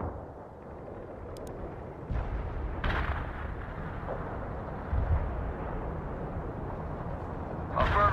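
Artillery fire support rumbles in the war video game World in Conflict as a low, continuous roar of distant blasts, with a few sharper booms standing out over steady battlefield noise.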